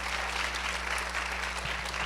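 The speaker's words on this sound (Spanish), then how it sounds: "Denles un fuerte aplauso, por favor," A church congregation gives steady, even applause to welcome first-time visitors, a dense wash of clapping sustained throughout with a low hum beneath.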